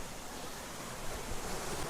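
Hidden 50-foot waterfall in Southern California heard nearby as a steady, dense roar of falling water, broad and constant with a slight swell partway through, no voices.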